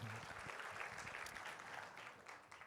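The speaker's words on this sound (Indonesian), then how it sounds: "Tepuk tangan dulu untuk para pelayan Tuhan" A church congregation applauds its servants of God during a service, a quiet but sustained patter of many hands that fades slightly at the end.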